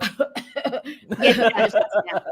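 A person coughs in a short burst of throaty, broken sounds, close up, mixed with something like chuckling.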